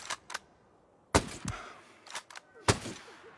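Sharp, loud gunshot cracks from the video game Ghost Recon, a sniper-focused session, arriving in several separate bursts with quieter clicks and brief tails between them, no talking over them.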